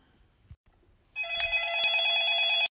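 A telephone bell rings in one sustained, bright electronic burst lasting over a second, loud and close, with a few faint clicks and handling noises just before it and no talk.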